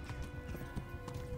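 A horse in the video game Kingdom Come: Deliverance clip-clops along in a quick, uneven run of hoofbeats, close and moderately loud, with a brief whinny-like tone mixed in.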